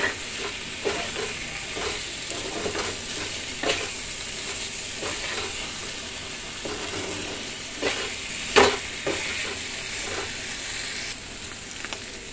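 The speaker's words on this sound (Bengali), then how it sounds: "এটা এবার একটুখানি কষিয়ে নেব। ভালো করে কষিয়ে নিচ্ছি" Spice paste of garlic, salt, turmeric and cumin powder frying and being stirred in a pan, a steady soft sizzle with periodic spatula scrapes and one sharper clank, no voices.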